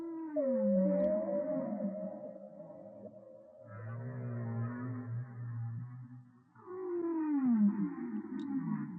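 Whales call underwater in long, sweeping moans and rising-falling tonal cries, several overlapping voices close and loud with brief gaps, no talking.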